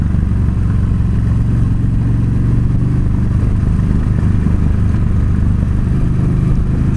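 Motorcycle riding along a road, the engine droning loud and steady with a low rumble and wind noise, a continuous close-up roar with no voices.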